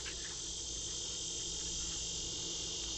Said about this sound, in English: as you can hear, the bugs, the cicadas out here in the woods